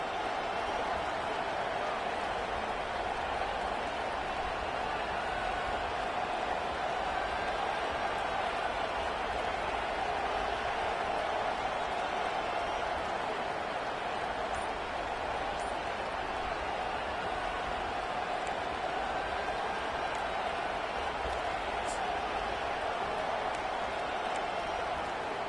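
A roaring stadium crowd in the College Football 25 video game, Iowa versus USC, fills the air with a continuous, dense wash of cheering and noise, steady and loud for the whole stretch with no clear breaks.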